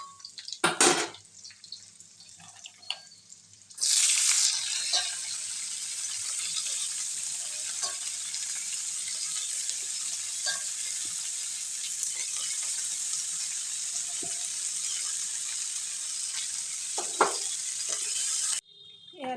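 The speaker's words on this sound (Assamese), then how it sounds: "আৰু এইফালে চব্জি বনাই আছোঁ আৰু চব্জিখিনি বনাবলৈ লৈছোঁ।" Vegetables for an Assamese meal fry in a pan, a steady bright sizzle that starts after a few seconds and carries on evenly, with occasional soft stirring knocks and a short quiet break near the start.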